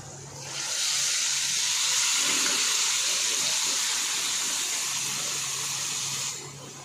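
Gravy spices dropped into a little hot oil in a pan for a mutton curry, a loud, sudden sizzle that hisses strongly and steadily for several seconds before easing down at the end.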